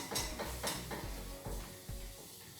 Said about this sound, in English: I'm going to take this off the heat and whisk in the milk.